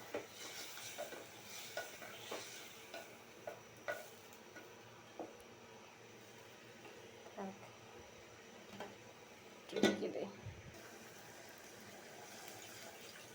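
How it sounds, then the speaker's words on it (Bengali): Curry with water is being stirred and cooked down in a pan, with soft spoon scrapes, occasional clinks and a low sizzle, a louder clatter near the end, and a voice talking intermittently over the cooking. "কষিয়ে নিই"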